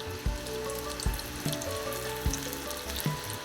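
Pumpkin cheese croquettes deep fry in hot oil with a soft continuous sizzle, broken by regular low bubbling pops about every second.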